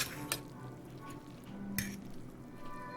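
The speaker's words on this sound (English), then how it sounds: "I'm stirring it up right now" Peyoung Gekikara Max End instant yakisoba noodles are stirred through their sauce in a container, a soft, faint wet churning with a few light clinks of utensil against the container.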